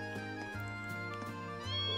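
Cat meowing in the Trails of Cold Steel video game, a short cry heard over steady game music with repeated beats.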